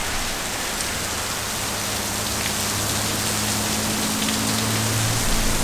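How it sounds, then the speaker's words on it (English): Heavy rain pouring down in San Antonio, a dense, constant hiss of steady rainfall that continues unbroken and fairly loud, with no voices. "Welcome to San Antonio. Just a little rain."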